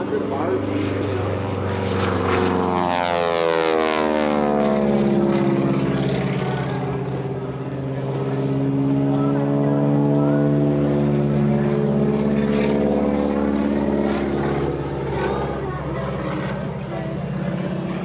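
Big Red aerobatic propeller plane making a loud low flyby, a rasping snarl from supersonic propeller tips around 2,400 RPM that swells, sweeps down in pitch as it passes, then lingers and fades.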